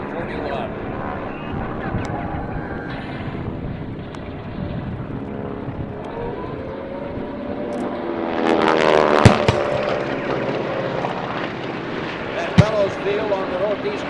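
A Val dive bomber dives overhead at the Breckenridge airshow during a Tora! Tora! Tora! Pearl Harbor reenactment, its engine roar swelling and bending in pitch amid wind noise, with an announcer talking over it.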